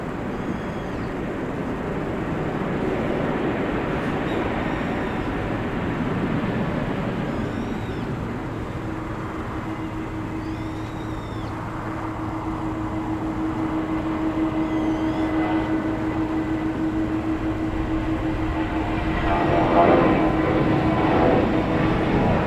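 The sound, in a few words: airplane coming in to land at Incheon airport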